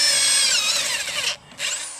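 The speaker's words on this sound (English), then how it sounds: "using a 1/4-inch steel cutting bit, we're going to drill through the foundation plates" A high-pitched power drill with a 1/4-inch steel cutting bit whines as it bores through steel foundation plates, briefly cutting out for a moment before spinning up again, close and loud.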